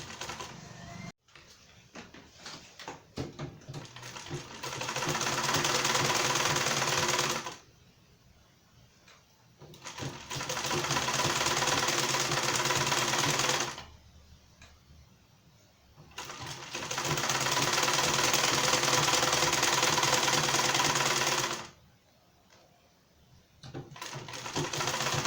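A sewing machine stitches a two-piece standing shirt collar seam along the seam allowance, running in three long steady bursts of several seconds each, separated by short quiet pauses, loud and close with no talk.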